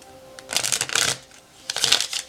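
Tarot cards shuffled by hand, two crisp riffling bursts close to the microphone separated by a short pause, with no talking.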